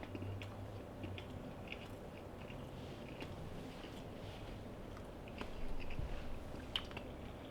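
Someone chews a sushi burrito up close with soft, steady mastication and faint wet squishes, quiet and continuous, with a slightly louder bite near the end.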